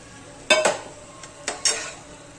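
Pasta tipped into a pan of cooked carrots and stirred with a utensil, a few sharp scraping clatters in two pairs of strokes against a quiet background.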